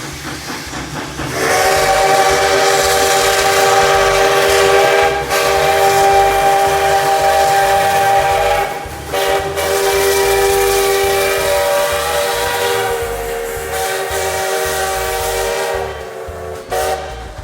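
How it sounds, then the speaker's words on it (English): Sierra Railway No. 3 steam locomotive sounding its rebuilt Lima five-chime whistle, loud sustained chord blasts with brief breaks and a hiss of steam, echoing outdoors with no talk. "clear, crisp, and authoritative sound echoed through the area as the whistle returned to its full potential"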